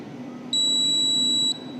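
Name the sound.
electronic beeper short and long beeps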